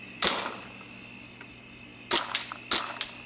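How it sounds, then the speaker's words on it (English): A Tippmann A5 paintball gun on full auto, giving three sharp pneumatic pops, one alone and then two more close together with a little rattle after, over steady outdoor background noise. "It's like a normal paintball gun."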